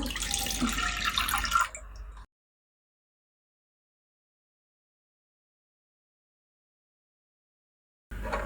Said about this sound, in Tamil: இப்போ நான் பேனில் ஒரு 1/2 லிட்டர் பால் எடுத்துக்கிறேன்